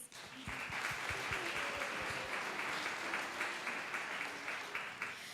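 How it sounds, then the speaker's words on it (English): A school assembly audience breaks into applause for student candidates, rising quickly to a steady, moderately loud patter of many hands clapping, a few sharper claps standing out near the front. "Let's give all of our candidates another round of applause."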